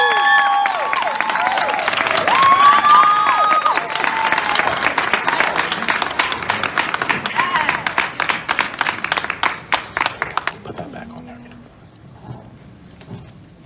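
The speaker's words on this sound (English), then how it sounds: "Please give her a round of applause." Audience applause for a guest joining a panel debate on a college campus, loud dense clapping with a few cheers that fades into scattered claps and then dies away, with a voice speaking over it at the start.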